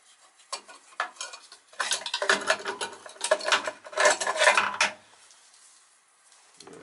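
A metric wrench working on a Riello BF5 oil burner fitted to an NCI boiler, with a burst of close metallic ratcheting, clicks and clanks over a few seconds, then quiet.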